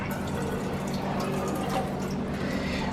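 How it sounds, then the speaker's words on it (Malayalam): Water pours steadily into a container for a few seconds, a continuous, close splashing rush without pause and no talk. "ഇതിനകത്ത് ഇച്ചിരി വെള്ളം ഒഴിക്കാം"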